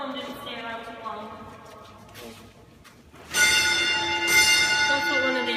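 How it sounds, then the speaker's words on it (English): Ringing tones from an original bell of an old signalling system. They sustain and fade, then a louder, brighter ring starts partway through. Someone talks around the ringing. "That's what one of the original bells would sound like."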